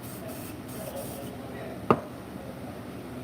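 A spray paint can lets out one short, sharp hiss of spray partway through, over a low, steady background rumble in an otherwise quiet room.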